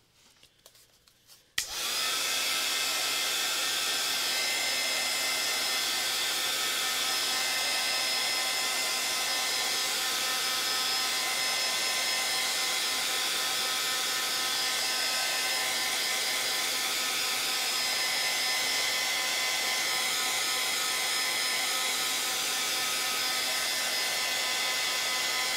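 A hair dryer drying paint on a mixed-media art journal page switches on after a brief quiet moment and then runs as a steady, loud whirring blow with a constant pitch for over twenty seconds.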